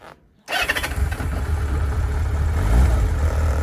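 An old café racer motorcycle engine starts after a short silent pause, catching abruptly and settling into a loud, close, rough idle that builds slightly toward the end.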